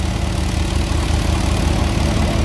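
A steady, pulsing diesel thrum comes from an Arjun 555 Ultra 1 DI tractor powering a thresher on wet ground, loud and near, with a low vibration throughout and no talking.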